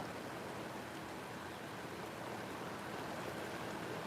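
Water from a stream flows steadily after a rain shower in the West Texas countryside, making an even, close, broadband rush with no breaks and no talking.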